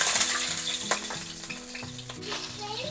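Garlic sautéing in a hot pan, a steady close sizzle with occasional stirring scrapes and spatters running throughout.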